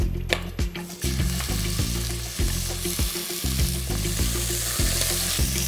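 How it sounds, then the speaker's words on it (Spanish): Rabbit meat frying in olive oil for rice with cuttlefish and vegetables, a loud continuous close sizzle with stirring scrapes and crackles throughout, no speech. "que la carne esté bien, bien, bien sofrita"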